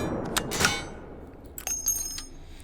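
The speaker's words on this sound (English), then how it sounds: "Got some new handling audio in here for it, like so." Handling noises of a .50 caliber rifle in the VR game H3VR, a few sharp metallic clicks and clanks, with a bright ringing hit early and lighter rattles later, close and fairly quiet.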